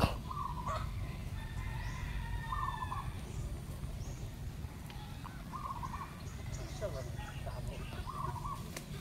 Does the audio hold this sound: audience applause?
no